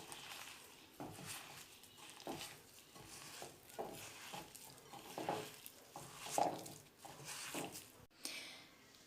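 Breadcrumbs and seasoned chicken mixture are kneaded by hand in a bowl, giving soft, repeated squelching and patting sounds in a steady rhythm, close and fairly quiet.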